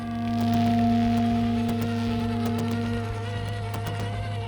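The small electric motor of an FMS FCX10 Range Rover RC car runs quietly, a steady soft hum with a thin whine of gear tones, with light clicks and ticks over the drone.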